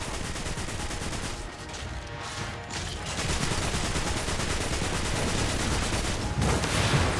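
Video-game gunfire aimed at a Fallen Walker in Destiny Rising, dense continuous rattling shots throughout with a brief dip in intensity, no voices.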